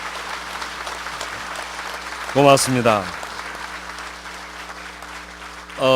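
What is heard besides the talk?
audience applause at book launch ceremony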